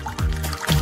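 Liquid trickles from a special tap into a glass, a short close pour with a bubbling stream and some splashing. No one speaks over it.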